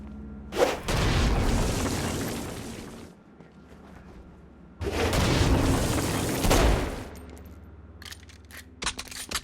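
Stone Blast attack in Saints Row: Gat Out of Hell, used against flying demons: two long, roaring explosive blasts a few seconds each, loud and close, followed by scattered sharp clicks and impacts.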